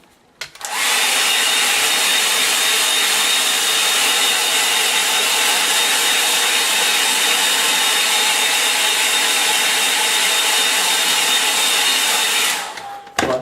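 Hair dryer blowing on a watercolour painting, a loud steady whooshing hum close by that starts abruptly, holds unchanged for about twelve seconds, then cuts off.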